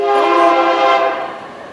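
A passing train sounds its horn in one loud, sustained blast that holds steady and then fades slightly toward the end, with no voices.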